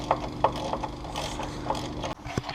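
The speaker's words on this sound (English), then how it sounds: "pop the motor mounts off real quick, just with a 3/8 wrench" A 3/8 ratchet wrench loosens the motor mounts on a Subaru WRX, giving a few quick close clicking ratchet strokes over a low background hum, then a short knock near the end.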